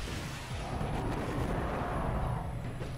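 Grenade launcher blasts in the Destiny raid Crota Hard Mode, heard as a dense, continuous roar of explosions and rumble with no distinct gaps.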